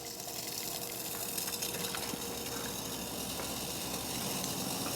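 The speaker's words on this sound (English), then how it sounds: "Water's still bubbling." Water bubbles in a pot on a DIY stainless steel Woodpecker wood gas pellet camping stove in an open garage, giving a steady, close, moderate seething rush with no talking.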